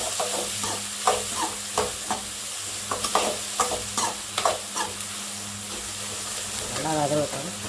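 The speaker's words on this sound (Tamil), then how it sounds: "போட்டுக்கலாம். நல்லா வதக்கிக்கலாம்." Onions stir-fried in a pan: continuous sizzling broken by repeated scraping strokes of a spatula at an uneven rhythm, close up, with a short voice-like sound near the end.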